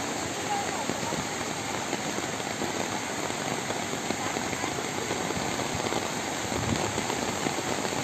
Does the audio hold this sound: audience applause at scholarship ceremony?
no